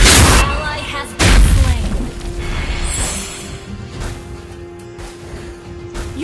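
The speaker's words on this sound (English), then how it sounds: "Our turret has been destroyed." A turret being destroyed in Mobile Legends Bang Bang sets off a heavy booming explosion and crash with a rumbling decay, under in-game voice announcements and busy game sound.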